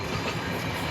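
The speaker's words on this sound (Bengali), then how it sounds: "গাইস এটা বিহারের ট্রেন, এই ট্রেনটা এখন বিহারে যাবে।" Train bound for Bihar rolling past on a railway line, a loud continuous rumble of wagons with faint wheel clatter filling the short moment, no voices over it.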